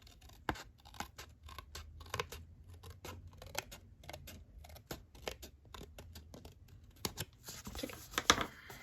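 Scissors trim a small item up close, crisp snips repeating in an uneven rhythm with light paper scratching and crinkling between cuts.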